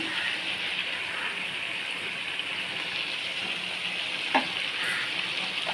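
Chicken varattu sizzles in a pan with a constant, even frying hiss, close and moderately loud, broken once by a brief clatter of a utensil.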